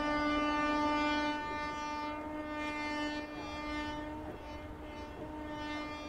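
A superfast passenger train with LHB coaches overtaking in the Open Rails train simulator, its loud sustained horn sounding over a steady rumble of wheels on track, slowly fading slightly.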